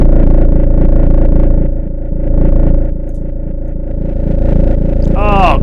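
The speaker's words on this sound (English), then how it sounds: "The drive is more of a kind of a driving distortion" Drive distortion on the Waves Flow Motion synth, a loud, gritty, buzzing sustained tone with pulsing layers that dips and swells, ending in a bright rising squeal; a voice talks briefly underneath.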